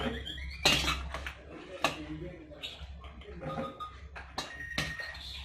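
Tomato spaghetti sauce ingredients tumble into a blender jar with several sharp clattering knocks and clinks, spaced irregularly, while a voice talks quietly in the background.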